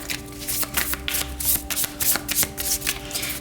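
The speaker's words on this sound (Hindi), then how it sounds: "तो चलिए शफल कर लेते हैं हम ऑप्शन 2 के लिए।" Tarot cards being shuffled by hand during a card reading, a close, crisp run of riffling and slapping bursts repeating in an uneven rhythm with no talk over it.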